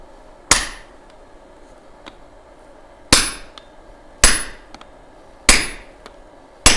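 A hammer strikes an axe on the anvil during forging: four sharp, loud ringing blows spaced a second or more apart, each followed by fainter taps and rebounds, with no talk.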